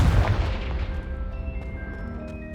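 A Confringo fire-spell blast in Hogwarts Legacy, a single loud booming impact at the start followed by a fading rumble with lingering ringing tones.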